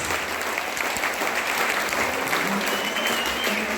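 Audience at a Dostlar Konağı folk music performance in Hüdayda applauding steadily, a dense, continuous wash of clapping from a sizable crowd throughout, with no pauses.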